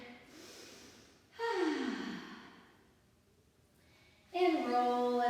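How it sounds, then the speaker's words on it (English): Deep breathing in child's pose during a suspension trainer workout cool-down: slow, audible inhales and long exhales, two breath cycles with a pause between, close and clear with no talking. "Take some deep breaths here."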